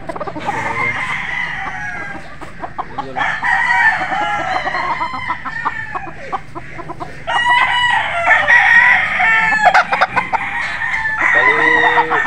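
Golden boy sweater street-breed rooster crowing, several loud, drawn-out crows close by, mixed with clucks and other fowl calls in a farm setting.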